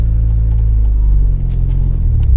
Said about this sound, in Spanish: el carro arrancó sin ningún trabajo y con buena velocidad y buen torque